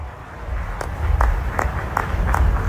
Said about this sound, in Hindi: खुलना चाहिए तो जोरदार ताली बजाओ।